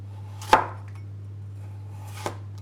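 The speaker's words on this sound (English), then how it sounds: "Slice them thinly." Two sharp knife strokes through cucumber hit a cutting board about a second and a half apart, the first louder than the second, against a low steady hum.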